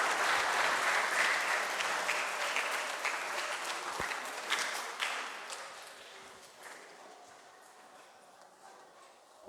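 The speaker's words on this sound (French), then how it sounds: "Là, on peut applaudir." Applause from a church congregation at Sunday Mass, strong at first and then gradually fading out over several seconds in a reverberant space.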